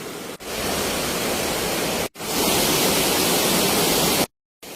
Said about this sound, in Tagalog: Kaya pakinggan nyo lang muna ang agos ng tubig kasi medyo maingay.